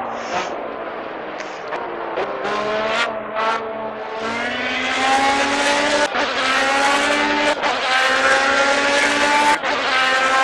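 A Formula B race car engine in the racing video game Project CARS revs hard and loud through repeated upshifts, the pitch climbing and dropping sharply at each gear change with brief tire squeal, no talking.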